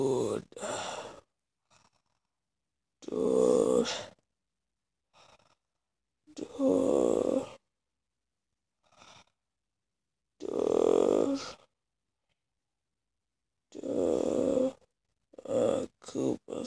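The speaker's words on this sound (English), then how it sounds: "stop snoring," A person snoring through a long all-night challenge, with about five loud, drawn-out rasping breaths spaced a few seconds apart and a few softer, shorter sounds between them, close to the microphone with no talk.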